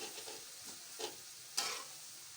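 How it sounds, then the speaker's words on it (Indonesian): Rice vermicelli risol filling stirred in a pan: soft scraping strokes and a few sharper utensil knocks over a faint sizzle, quiet and close, with no talk. "Kita aduk lagi terus sampai tercampur rata."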